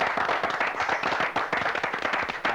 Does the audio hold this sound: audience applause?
yes